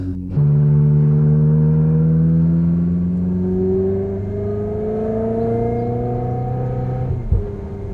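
A Ferrari fitted with a track exhaust drones steadily for several seconds, its engine note rising slowly as it revs smoothly, close and loud, ending in a short thump.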